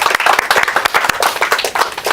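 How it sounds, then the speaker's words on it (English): An audience applauding a person introduced at a movement strategy talk, a dense, loud round of clapping that continues steadily without a break. "Give her a round of applause."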